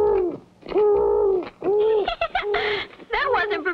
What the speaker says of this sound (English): It was a little bitty old owl.